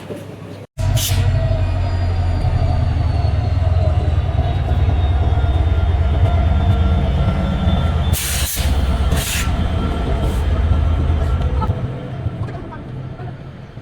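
Mohanagar Provati passenger train running from Dhaka to Chattogram, a steady loud rumble of wheels on track with rhythmic clatter, a brief dropout near the start and some faint background voices.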